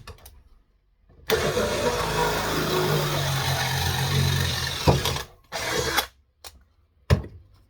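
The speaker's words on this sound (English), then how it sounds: "As I drill these 2 holes out" A power drill bores two holes into a metal pole for a 12 m antenna tower, running loud and steady for about four seconds, then in shorter separate bursts with gaps between them.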